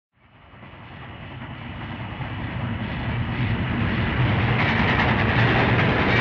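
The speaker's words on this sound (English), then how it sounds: "companion, the Frenchman, Mr. Passepartout, are travelling through India by train" A train travelling through India rumbles steadily, swelling from silence into a loud continuous rolling roar with a faint clickety-clack, heard alone as a story sound effect.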